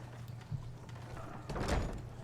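Heavy doors swing open in the fantasy video game Skyrim, a brief thud near the half-second mark followed by a louder rumbling, creaking swell of mechanism noise that fills the final second.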